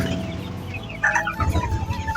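Cochin chickens clucking in a cage while being given their midday feed; several overlapping close clucks and short calls, a busy cluster of sounds becoming louder in the second half.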